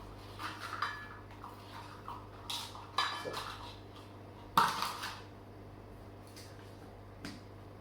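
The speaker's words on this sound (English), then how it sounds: "What you do is you mix the baking soda in really well with a fork or a whisk" A fork or whisk mixing baking soda into flour in a bowl for buttermilk pancakes, heard as close, irregular clinks and scrapes of metal against the bowl, sometimes soft and sometimes sharper, with no talking.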